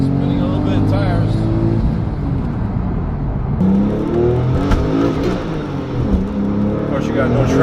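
A tuned 750 HP Porsche 997 Turbo accelerates hard with no traction, its engine droning loudly and then climbing in pitch in repeated surges, close by, while someone talks over it.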